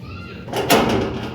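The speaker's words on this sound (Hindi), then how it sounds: "दरवाज़ा बंद कर दिया।" A door swings shut with a short broadband thud in a home, heard once near the mic amid faint background chatter and household noise.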